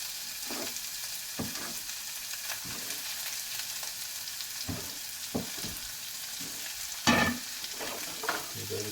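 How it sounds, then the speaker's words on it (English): Diced carrots and tomato stirred in a pan, with scattered soft scrapes and one louder clatter against a steady broadband sizzle hiss, close and moderately quiet. "Give that a stir."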